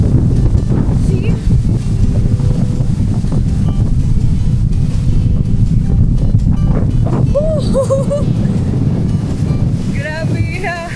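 Strong typhoon wind on Boracay island buffets the microphone in a loud, constant roar, with brief voices and faint calls breaking through near the end.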